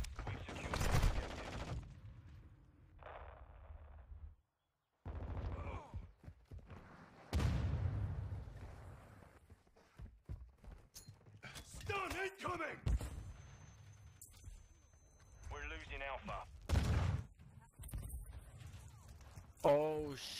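Bursts of gunfire and explosive thuds in Call of Duty MW2 combat, sporadic and loud, with a voice talking over and between the shots.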